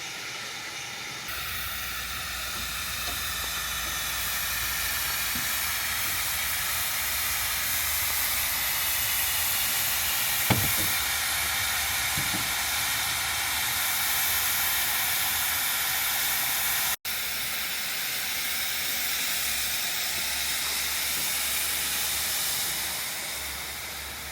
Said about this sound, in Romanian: Locomotivă pe aburi, fabricată în Reșița.